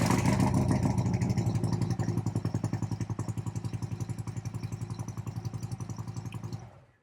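Motorcycle engine running after a stator repair, a loud, close, steady thumping idle with even pulses that winds down and cuts off at the end.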